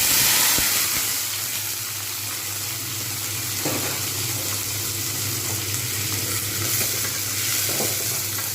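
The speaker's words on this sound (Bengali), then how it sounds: "এইবার আমি এর মধ্যে মিষ্টি আলু বা রাঙা আলু সেগুলো সবটাটা ঢেলে দেবো" Sweet potatoes tumble into a pan and fry for a sweet potato and poppy seed dish, giving a steady, fairly loud broadband sizzle with a few stirring scrapes and no voices.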